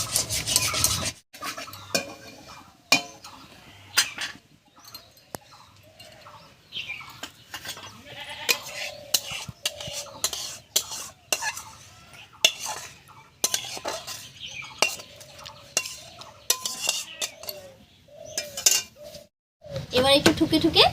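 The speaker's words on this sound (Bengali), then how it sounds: "এবারে ঘি মাখিয়ে রাখা থালার মধ্যে নামিয়ে নেব" Orange jelly mixture scraped and poured from a pot into a ghee-greased plate in a home kitchen, with irregular metallic scraping, clinks and rubbing of utensils against the dishes, close and intermittent, with brief speech in between.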